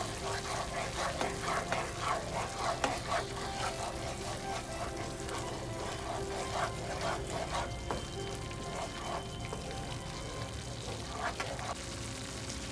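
Spice paste for spicy butter garlic prawns cooking in a pan over low heat, giving a steady soft sizzle with scattered scraping stirs throughout.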